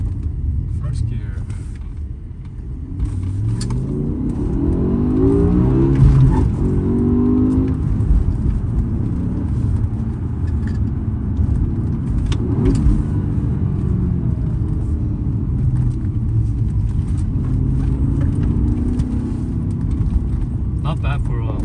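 A 2007 BMW M5's 5.0-litre V10 engine drones and revs up in first gear, its low rumble climbing in pitch as it accelerates, steady and fairly loud throughout.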